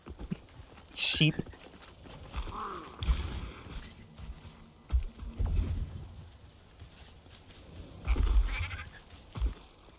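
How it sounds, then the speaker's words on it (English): Several short sheep bleats sound up close in Guild Wars 2, scattered among clopping hooves and other game sounds. "Sheep."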